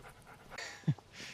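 A dog panting on a walk, a few quick, short breaths with one sharper huff near the end, faint and close and with no one speaking.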